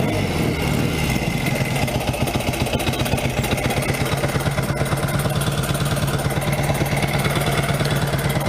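A 1964 Royal Enfield Interceptor 750 motorcycle engine runs steadily close by, a loud, even throbbing idle with a rapid regular pulse that holds throughout, without talk.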